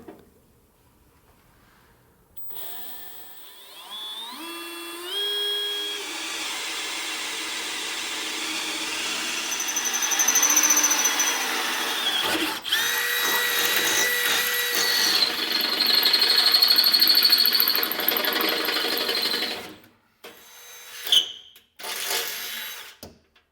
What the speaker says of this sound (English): I'm going to go ahead and start drilling those holes out now.